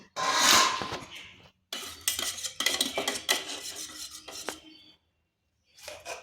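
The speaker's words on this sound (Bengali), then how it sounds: "এরপর ঢাকাটা তুলে নিচ্ছি" A metal lid lifted off a cooking pan while making aloo paratha, giving a loud rattling scrape, then bursts of clattering and scraping metal against the pan, with short silent gaps and a final brief rattle.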